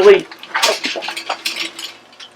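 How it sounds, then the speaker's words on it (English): Leftover lump charcoal tumbles onto coals banked to one side of a Weber kettle grill, giving a run of light, brittle clinks and clatters close by, with a voice briefly overlapping. "this is some lump charcoal that we had left over from our last cook"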